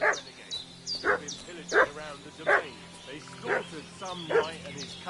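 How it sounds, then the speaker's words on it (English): A dog in the video game Kingdom Come: Deliverance 2 barks repeatedly, about seven sharp, evenly spaced barks at moderate distance, with faint voices and a low ambient hum underneath. "What's that dog making such a fuss about?"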